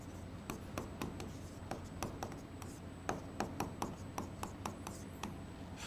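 Handwriting during a Hindi-language lecture on child development and teaching theory for a teacher recruitment exam: a rapid, regular series of close scratchy pen strokes and taps, with no voice over them.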